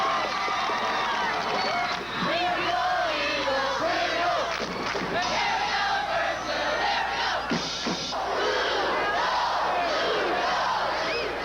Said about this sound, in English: First, there's the organized sanctioned cheer.